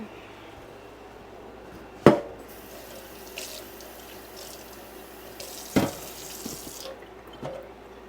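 Water runs steadily from a kitchen tap, a soft continuous splash broken by two sharp clanks of jars being handled in the sink.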